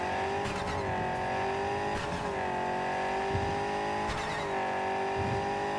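In the Cyberpunk 2077 video game, a V8 car engine drones loud and close, rising and falling in pitch as it revs through several throttle swells over a few seconds, with no voices.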